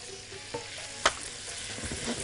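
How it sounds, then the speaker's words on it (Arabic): Garlic sizzles and is stirred in melted butter in a pan for rice fatta, with a couple of sharp splashing bursts as vinegar hits the hot fat, close and steady without talk. "هعمل كده حبه الزبده واشوح فيهم التومه واطشهم بالخل"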